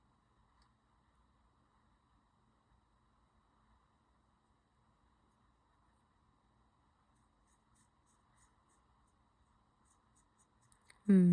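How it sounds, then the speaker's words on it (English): A paintbrush scratches softly and steadily across a Nighthaunt miniature during painting, very faint against a low hum, and a brief louder knock ends it. "Scratchy paint noises."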